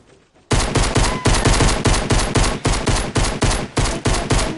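Rapid, evenly spaced pistol shots fired in a video game, a sustained burst of about fifteen loud, close cracks in steady rhythm after a brief quiet start, with no talking.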